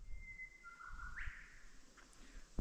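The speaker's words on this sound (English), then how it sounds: "Birds are singing." Birds sing in King's Canyon, Northern Territory, Australia, near water and a billabong: thin, faint whistled notes, one long sliding tone, then a few short chirps, over a quiet outdoor hush.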